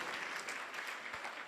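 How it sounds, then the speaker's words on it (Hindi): Audience applause at a spiritual discourse, a steady spread of many hands clapping together at a moderate distance, sustained without pause and with no voices over it. "प्रयास किया उसके लिए ताली बजा दीजिए एक बार"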